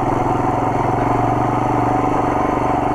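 A Royal Enfield Himalayan motorcycle rides off-road in first or second gear, its steady, loud thumping engine pulsing evenly with some mechanical clatter.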